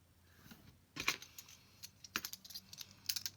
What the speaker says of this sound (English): Just using a craft knife here.